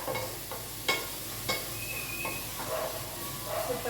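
Sliced onion sautéing in a pan with salt: a soft, steady sizzle broken by a few sharp spoon scrapes and clinks against the pan.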